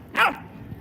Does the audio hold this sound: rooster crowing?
no